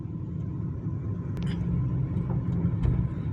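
A Nissan Bluebird car, just back from engine, gearbox, AC and suspension work, runs on a test drive with a smooth, low, steady rumble from inside, a few faint clicks above it and no talking.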